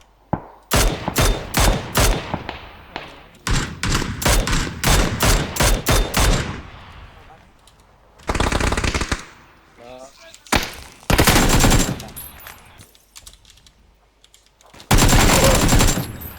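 Rapid bursts of automatic gunfire from the PUBG battle royale game come in a quick rattling volley, then separate loud sustained sprays with short pauses between.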